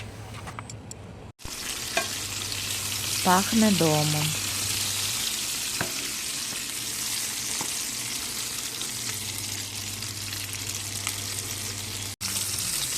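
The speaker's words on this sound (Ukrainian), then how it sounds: "Ставимо сковорідку підсмажитися." Pork fat sizzles and crackles steadily in a hot pan, a close, continuous hiss with occasional scraping, while a voice speaks briefly.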